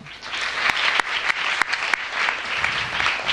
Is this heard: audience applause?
yes